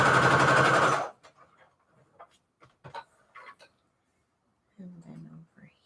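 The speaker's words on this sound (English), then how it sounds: "let's do a straight stitch off to the sides" A sewing machine runs a straight stitch through fabric for junk journal fabric cluster embellishments, making a loud, steady whirring hum for about a second before stopping. Faint scattered handling noises follow.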